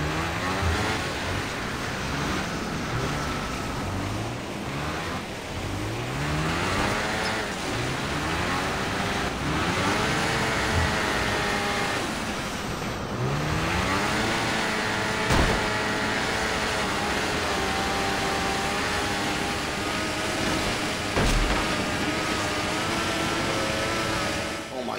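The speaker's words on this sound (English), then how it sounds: "God, this snowmobile is awesome." A snowmobile engine in the video game Far Cry 4 drones loudly and continuously, its pitch rising and falling as the throttle revs while the machine is driven across the valley.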